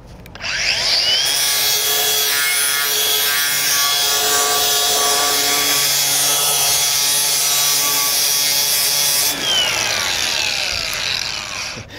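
A 4.5-inch angle grinder spins at about 14,000 RPM with a 40-grit pad, a loud continuous high whine that runs alone for roughly eight seconds before spinning down.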